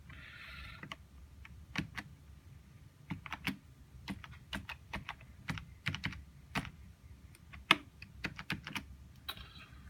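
Fingers type a password on a computer keyboard in a quiet room, a steady run of close, crisp key clicks with uneven pauses and a few harder keystrokes.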